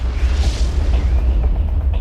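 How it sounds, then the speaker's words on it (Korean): A sound effect stands for a gamma-ray burst, a cosmic explosion, as a deep, loud, sustained rumbling boom with a steady roar that holds for about two seconds. "우주에서 가장 강력한 폭발입니다."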